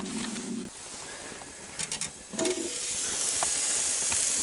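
A tortilla steaming over candle heat for canned tacos gives off a soft, continuous hiss, with faint crackles and brief sizzling bursts partway through before it settles into a steady, quiet steam.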